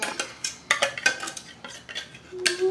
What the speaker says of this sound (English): And I want you to scoop the tuna fish out.